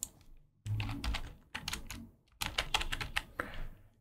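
Fast typing on a computer keyboard while searching the effects panel in Premiere Pro: dense bursts of crisp, close keystrokes separated by brief pauses, with no voice over it.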